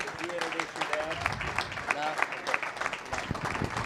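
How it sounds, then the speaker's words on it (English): An audience at a student auction at an auctioneering college applauds a 13-year-old's run, steady clapping carrying on beneath someone talking loudly over it. "Give him a nice round of applause for that run."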